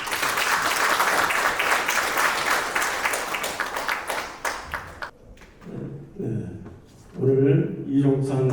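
Audience applause at a commemoration ceremony for the anniversary of the Battle of Fengwudong, a dense round of clapping for about five seconds that tapers off before a voice begins speaking.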